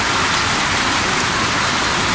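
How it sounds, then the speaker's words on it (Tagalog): Sudden heavy rain pours down in a steady, dense roar, loud and close with no break, on a day that had turned overcast after bright sun. "bigla bumagsak yung ulan. Biglang lakas."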